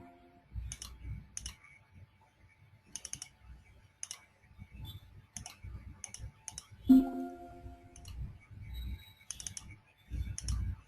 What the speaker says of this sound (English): just double click on the symbol